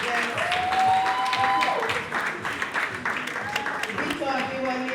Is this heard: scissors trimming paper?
no